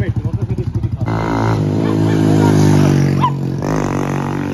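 A repaired motorcycle, a 2019 model rebuilt after an accident, starts with a close, rhythmic idle putter, then revs up loudly into a sustained, steady drone as it rides off, with a brief rev blip near the end and talk mixed underneath.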